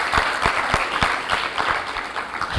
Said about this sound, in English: Distinguished delegates, please give another round of applause